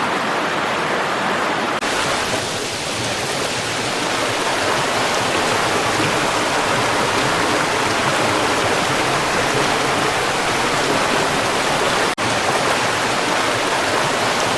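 A steady, rushing stream of fresh cold water along Green Lake Road near Sitka, Alaska, flowing constantly and close by with no voices.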